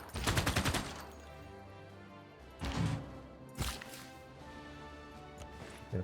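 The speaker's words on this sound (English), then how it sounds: "I'm going to eliminate those rocket launchers." Rapid weapon fire from units attacking rocket launchers in Civilization VI, with a burst of repeated shots at the start and two shorter bursts later, set over a steady game music bed.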